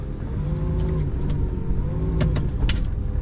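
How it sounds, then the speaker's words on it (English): A manual-transmission car rolls backward down an incline with a steady, close engine hum and a few brief squeaks and creaks over it. "So we're gonna have to put it in reverse and just go downhill."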